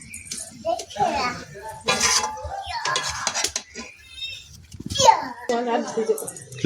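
Clattering pot and utensil sounds as a lid goes onto a pot of meat cooking over a wood-fired clay stove, with clinks scattered among frequent talk from adults and a child nearby.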